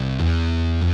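A thick, heavily distorted digital bass from a Hardcore plugin with compression, two loud sustained low notes with a brief dip between, buzzing and dense, playing alone.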